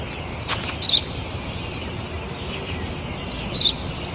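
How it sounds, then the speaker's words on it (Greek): Two short, sharp sparrow chirps ring out a few seconds apart over a soft, steady background hiss. "Ένα σπουργίτη είναι, πατέρα. Ένα σπουργίτη."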